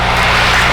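A light aircraft engine at 1800 rpm during a pre-flight run-up with the parking brake set, on a snowy airfield, gives a steady, loud, close droning hum with no voices.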